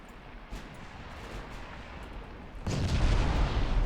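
Naval gunfire in the warship game Ultimate Admiral Dreadnoughts: a steady low battle rumble, then a sudden loud, heavy boom of a shell hit that holds as a dense roar to the end.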